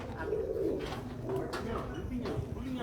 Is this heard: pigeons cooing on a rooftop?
yes